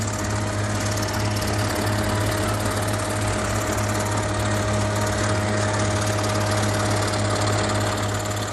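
A loud, steady motorized cutting machine runs continuously as it cuts out a shape just outside a traced line, with a dense, unbroken mechanical drone and no pauses.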